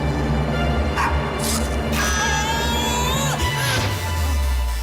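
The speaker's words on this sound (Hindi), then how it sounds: "देखो बैकग्राउंड में डॉग भौंक रहा है" In an animated cartoon scene, a dog barks and yips in the background, its short bursts mixed with loud voices and busy soundtrack noise throughout.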